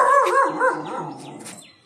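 A dog barks and yips in a quick run of sharp, close calls, then gives a few fainter whining yelps as the sound trails off.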